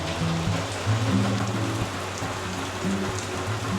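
Monsoon rain falls steadily outdoors near a resort in Murti, Dooars, a dense even patter with a low hum running underneath.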